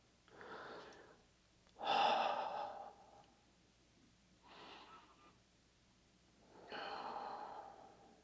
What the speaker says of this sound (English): Let's take a few breaths, a few gentle breaths.